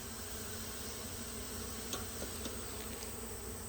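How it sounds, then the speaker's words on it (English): A dense, steady buzz comes from a crowd of honey bees stirred up after being smoked. It is a constant droning hum, close but moderate in level, with no talking. "Boy, when you smoked them, they got loud again."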